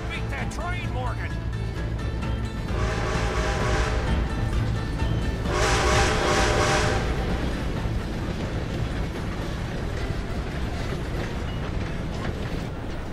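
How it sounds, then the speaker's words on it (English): A train rumbles past in the Western game Red Dead Redemption 2, a steady loud rolling roar with rising surges and clatter, while voices shout over it. "Gotta beat that train, Morgan!"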